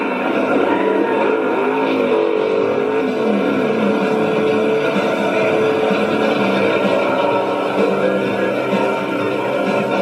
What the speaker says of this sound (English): Chris was in the far lane in the Jeep funny car called Just Do It